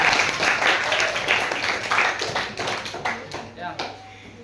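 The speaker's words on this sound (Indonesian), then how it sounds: "anak-anak, tepuk tangan dulu" Schoolchildren in a classroom applaud together, a brisk, steady patter of many claps that gradually fades and thins toward the end, with some talking underneath.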